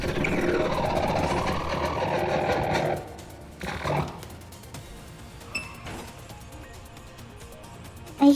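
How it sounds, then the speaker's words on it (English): A car engine running in the background of a Phantasy Star Online 2 NGS game session, a steady droning hum for about three seconds that then drops away, with fainter mechanical noise after it. "I hear car, yep."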